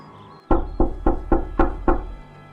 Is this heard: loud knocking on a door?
yes